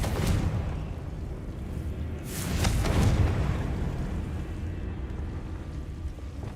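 A fire spell detonates in Hogwarts Legacy, a deep booming explosion that swells to a rumbling peak and slowly decays with crackling debris.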